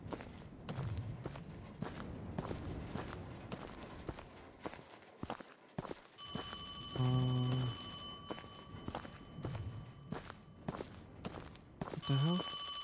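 A telephone rings in a horror video game, two bursts of loud electronic ringing separated by quieter stretches of footsteps and faint ambient thuds, close and prominent.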